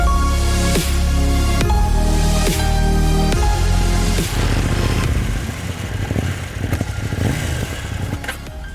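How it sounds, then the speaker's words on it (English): KTM 790 motorcycle exhaust note, a loud, steady engine rumble with repeated surging pulses during the first four seconds, then settling into a rougher, lower drone, with no talk over it. "the exhaust note on this motorcycle"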